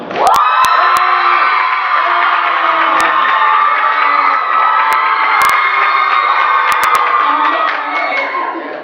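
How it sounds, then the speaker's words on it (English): Loud audience cheering at a campus talent show, a sustained roar of shouts, whoops and yelling crowd voices filling the whole stretch with a few sharp claps or bangs. "I need you guys to cheer for whoever you want to win, and the person with the loudest cheer is audience choice"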